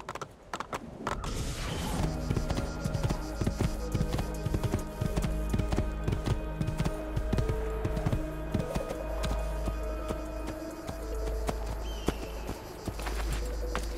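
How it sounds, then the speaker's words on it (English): Horse hooves gallop in steady clip-clop rhythm through Assassin's Creed II, loud and close with creaks, under a sustained musical bed and no talk. "I'm on a horse."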